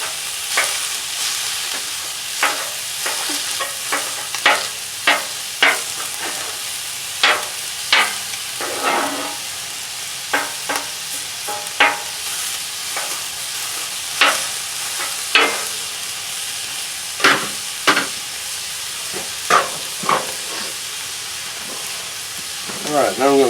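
Smoked chicken skin sizzling and crisping at the hottest spot of a cooking surface, a steady hissing fry punctuated by regular scraping strokes of a utensil, close and continuous.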